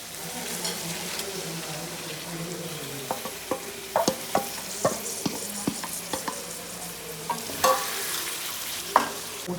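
Onion masala roasting in a pan for a Kerala-style fish roast, a soft steady sizzle broken by irregular scraping and clinking stirring strokes close by.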